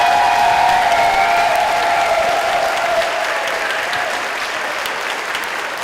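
Audience at a Kansas City Public Library event gives loud, sustained applause for the library staff, a dense wash of clapping with a faint sustained tone underneath, easing slightly toward the end.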